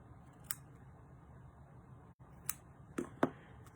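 Scissors snip through the string of a watercolor tag, giving a few quiet, crisp clicks spaced apart and then two quick cuts near the end, close and soft against a hushed room with no talking.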